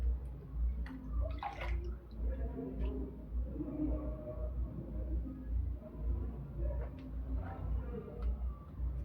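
Water pours into an electric kettle, a soft continuous trickle and splash with a few brief clinks, fairly quiet and close over a low background hum.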